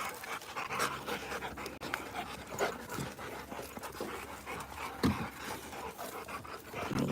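Rottweilers pant steadily and rapidly outdoors in a yard, a continuous rhythmic huffing with occasional sharper breaths, close and fairly loud throughout.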